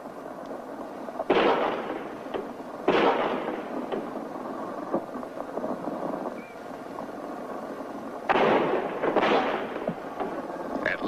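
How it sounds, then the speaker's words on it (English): Gunshots from a played recording of the Kennedy assassination ring out as several sharp, booming bursts: two close together early on, then two more near the end, over a continuous hiss. "At least 4 shots were fired"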